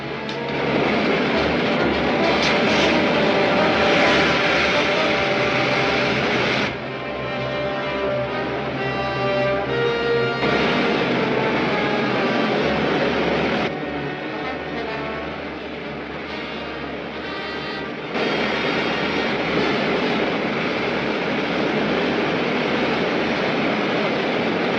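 Rocket ship main jets firing as a long, steady roaring thrust with abrupt shifts in tone and level, continuous engine noise throughout with no voices.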